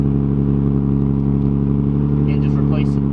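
A Nissan 350Z with a damaged muffler and oil coming out of the exhaust drones loudly and steadily at close range, a thick low exhaust tone held at constant revs, with a faint voice briefly surfacing near the end.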